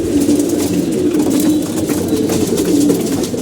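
Pet pigeons coo in a steady low murmur throughout, close by and fairly loud, with no talk over them.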